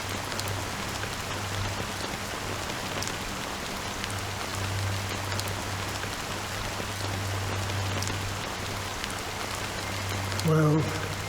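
Steady, even rainfall from Honkai: Star Rail, a constant dense hiss of drops on surfaces lasting throughout, with a low hum underneath and a brief louder sound near the end.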